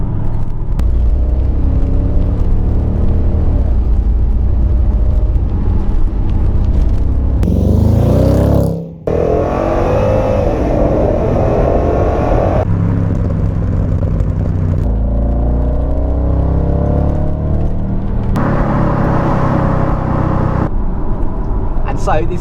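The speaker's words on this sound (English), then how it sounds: "So this was my Audi S6." Audi S6 Avant (C5) V8 running on LPG, a steady low engine rumble throughout with a brief dip midway, heard alongside someone talking over it.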